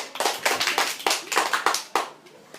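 Audience applause at a high school debate, a dense burst of many hands clapping close by that swells with uneven peaks and then tapers off.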